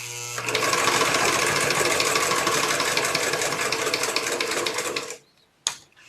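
A sewing machine stitches a contour dart in a fast, steady whirring run for about five seconds, then stops abruptly, followed by a brief mechanical click.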